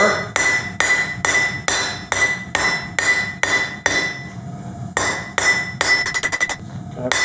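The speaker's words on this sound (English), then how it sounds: "Gliding blows, and stretch it to get a hook on it, and it's nice and warm here on the end." Hammer blows land on a hot steel rod being forged into a hook beside a homemade propane forge. About a dozen loud, ringing metallic strikes come in a steady rhythm with a short pause, then quicker bouncing taps.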